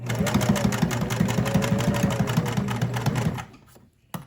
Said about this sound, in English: So now we're gonna run a second row of stitching.